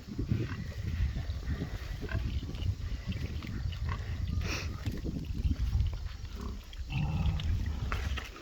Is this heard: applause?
no